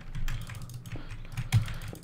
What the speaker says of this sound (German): Ich hoffe, man hört auch die Tastatur nicht.